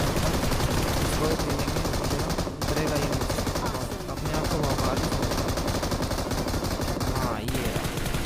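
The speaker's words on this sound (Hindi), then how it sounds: "इधर गोली चला देता हूँ ऐसे" Rapid automatic gunfire in the BGMI battle royale mobile game after the 3.1 update, loud and sustained bursts over most of the stretch, with someone talking over the shooting.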